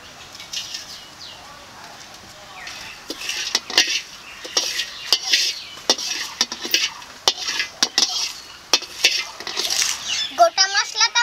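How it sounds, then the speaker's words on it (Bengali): Whole cumin, whole garam masala and a bay leaf dry-roast in a hot wok with no oil, a spoon clattering and scraping in quick irregular strokes over a faint crackle, close by. "এই কড়াইতে গোটা জিরা, গোটা গরম মশলা আর একটা তেজপাতা এখন ভেজে নেব।"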